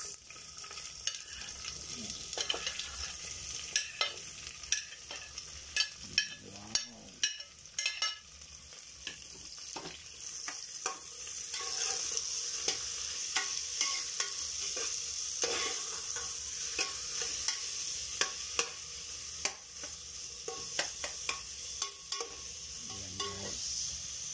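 Onion and ginger sizzle and fry in a pan for tinolang manok, a steady close hiss broken by frequent scraping stirs and utensil taps.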